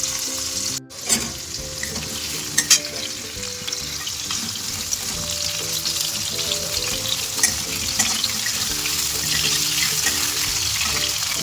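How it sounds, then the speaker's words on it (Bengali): Potatoes coated in salt and turmeric fry in hot oil, giving a dense, loud, continuous sizzle close by, with a brief dropout near the start and a few clinks from a utensil. "লবণ হলুদ মাখানো আলুগুলোকে তেলের উপর ছেড়ে দিচ্ছি"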